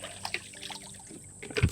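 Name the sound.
rinsing out an empty bucket with water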